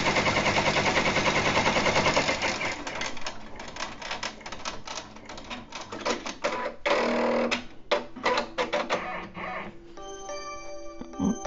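A home embroidery machine stitching an applique placement outline in a hoop for a Christmas treat bag, a fast, loud mechanical rattle of the needle that stutters and pauses, ending in fainter ticking.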